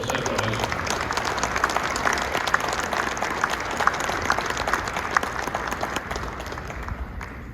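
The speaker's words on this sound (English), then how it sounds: "a round of applause for Kevin Gant, North Central High School" Steady, moderately distant applause from a luncheon crowd honoring coach Kevin Gant of North Central High School at a boys basketball state finals event, continuous clapping with faint murmuring beneath.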